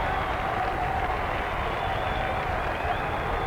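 Big crowd at the 1982 Australia versus India men's field hockey World Cup final cheering and clapping, a dense continuous roar of applause and voices from a distance, steady throughout.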